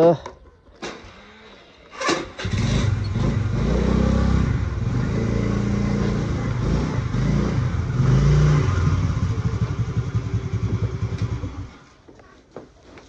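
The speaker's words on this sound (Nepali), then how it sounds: "यही छ अब मेरो स्कुटर पार्किङ भयो" A scooter engine idles, then revs and runs steadily for about ten seconds at close range before cutting off, with a few knocks and rattles at the start and end.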